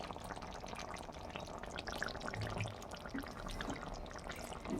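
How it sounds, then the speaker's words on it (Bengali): A spoonful of ghee goes into a pan of jackfruit and prawn curry cooking on the stove, a soft pour and faint sizzle under a quiet bubbling, bustling kitchen background. "এবার 1 চামচ ঘি দিয়ে দিচ্ছি"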